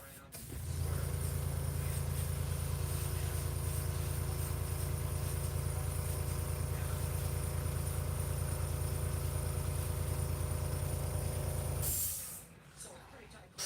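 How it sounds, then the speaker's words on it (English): A forklift engine runs steadily and loudly at close range for about twelve seconds while it manoeuvres tightly around a Ferrari in a workshop, then cuts off, leaving quieter room noise. "I got Will on the forklift trying to come around and get square."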